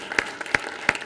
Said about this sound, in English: let's have a round of applause for Mark